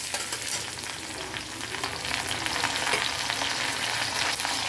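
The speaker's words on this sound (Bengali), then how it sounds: "এখানে আমি কুচি করে রাখা আদা রসুন আর কাঁচা লঙ্কাটা আগে দিয়ে দেব" Chopped ginger, garlic and green chilli frying lightly in a pan for a Bengali fish chop, a steady close sizzle and crackle running throughout without pause, with no one speaking.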